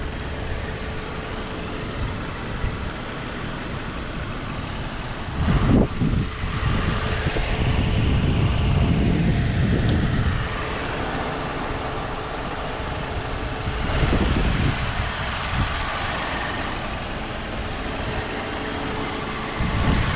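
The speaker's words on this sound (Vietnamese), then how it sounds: "Động cơ đang nổ ha, động cơ đang hoạt động," A 2017 Kia Cerato 2.0 automatic runs at idle, a steady low hum with the air conditioning on maximum, with a few brief louder swells and rumbles along the way.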